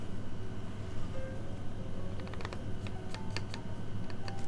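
Keys of a Finder Works En Dash mechanical keyboard with Caustic Customs anodizing click during testing, a few sparse taps then a short flurry of clicks over a steady background hum.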